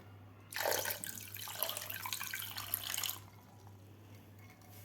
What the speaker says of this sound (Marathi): यामध्ये घालायचं आपल्याला थोडंसं पाणी.